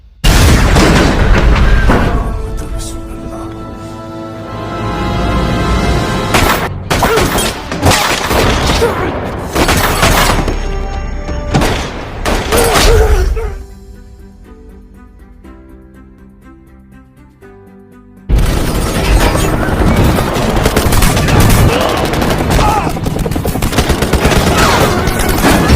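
Loud bursts of gunfire and booms fill most of the clip, broken by a quieter stretch before the shooting resumes at full force.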